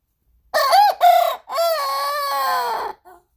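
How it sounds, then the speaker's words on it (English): Close by, a young rooster gives an immature crow: two short clipped notes followed by a longer, wavering drawn-out call and a tiny trailing sound, with no talk. "Oh, those are your crows?"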